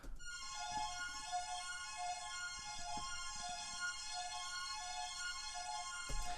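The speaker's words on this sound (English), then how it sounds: "We have a Pro Mars patch that is doing this." A Pro Mars synthesizer patch plays a sustained ambient layer of dense, steady tones with slowly pulsing higher notes, continuous and moderately quiet, with no talking.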